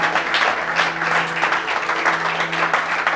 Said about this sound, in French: Est-ce que tu peux bien acclamer quand même?